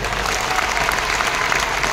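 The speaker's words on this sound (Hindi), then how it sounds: "एक बार उसके लिए जोरदार तालियां" Seminar audience at a business marketing event applauding, dense continuous clapping from a crowd filling the whole moment at steady loudness.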